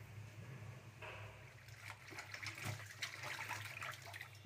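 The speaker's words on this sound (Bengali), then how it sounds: "তাই প্রথমে হাঁসের মাংসগুলো খুব ভালোভাবে ধুয়ে নেব।" Tap water runs steadily over raw duck meat being rinsed in a kitchen, a faint continuous splashing and gushing that swells slightly partway through, with no voices.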